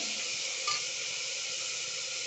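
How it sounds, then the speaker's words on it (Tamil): Vegetables sautéing in hot oil in a pan for a South Indian sambar rice lunch, a steady close sizzle with a brief stirring scrape, alone without talk. "ரெண்டு நிமிஷம் நல்லா வதக்கலாம் இந்த எண்ணெயிலே கொஞ்சம் நேரம் வதக்குங்க"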